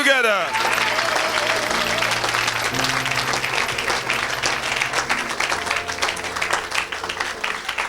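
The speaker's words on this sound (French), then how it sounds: "Acclame le Seigneur. Put your hands together." Congregation at a church service clapping together, loud and steady throughout, with music and a murmur of voices underneath.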